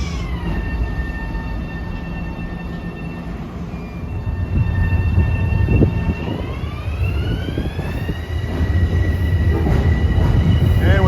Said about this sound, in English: here's train 639 to Mount Kisco at 3:03. M7As.